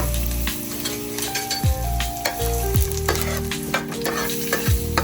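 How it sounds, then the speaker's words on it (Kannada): Masala roasting in butter in a pan for chicken gasi, a continuous close sizzle broken by repeated scraping and clanking of a spoon stirring against the metal. "ಮಸಾಲೆ ಎಲ್ಲ ಇದಕ್ಕೆ ಹಾಕ್ಬಿಟ್ಟು ಸ್ವಲ್ಪ ರೋಸ್ಟ್ ಮಾಡೋಣ, ಚೆನ್ನಾಗಾಗುತ್ತೆ."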